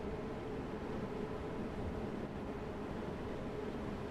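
Cabin of a London Underground Bakerloo Line train in Train Sim World 2, a steady low rumbling roar with even hiss and no distinct events, moderately quiet.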